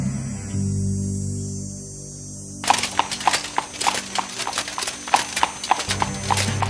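A horse's hooves clip-clop in a quick, even rhythm after a few seconds of low humming, with a possible brief whinny among the loud hoofbeats.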